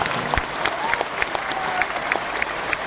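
Crowd clapping at a devotional religious gathering, a dense sustained applause with sharp individual claps standing out throughout, fairly loud and steady from start to finish.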